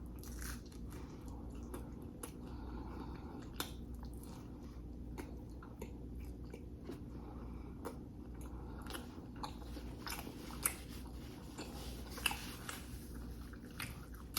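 Biting and chewing on a chipotle chicken bacon pizza, close and fairly quiet, with soft crunches and wet squishing in an irregular rhythm over a low steady background hum.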